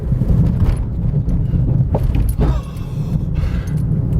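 A small economy Mitsubishi Mirage car bumps over train track crossings, a loud continuous low road rumble with a couple of heavy thuds from the suspension and some rattling.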